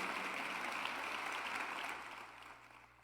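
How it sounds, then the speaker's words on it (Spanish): Applause from a church Sunday school congregation, a soft, fairly distant wash of clapping that holds steady and then tapers off toward the end. "Dele el aplauso al Señor"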